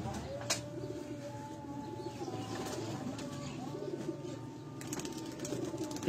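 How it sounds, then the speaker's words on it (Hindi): A Khaksira pigeon coos in low, steady, rumbling phrases at close range, with faint chirps and occasional sharp clicks in the background. "तो ये कबूतर जो है ये खाकसिरा कबूतर आप देख रहे हैं।"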